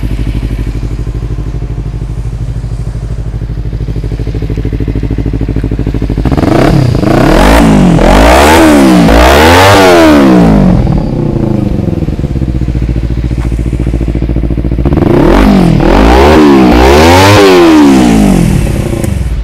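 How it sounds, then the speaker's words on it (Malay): A 2015 Kawasaki Ninja 250R with a Leo Vince exhaust idles steadily, then revs hard in two loud bursts of rising and falling throttle blips, settling back to idle between them. "jom kita start tengok ini Ninja 250 Leo Vins exhaust bunyi macam mana"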